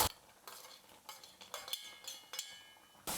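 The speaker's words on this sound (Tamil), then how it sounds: "எல்லாத்தையும் சேர்த்து நல்லா மிக்ஸ் பண்ணி விட்டுட்டோம்னா போதும்" A spoon stirs payasam with cardamom, cashews and raisins in a pot, producing a series of light scraping and clinking strokes at irregular intervals, close and fairly quiet.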